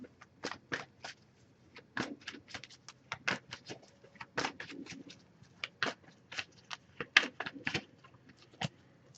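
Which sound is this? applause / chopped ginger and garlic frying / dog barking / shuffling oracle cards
shuffling oracle cards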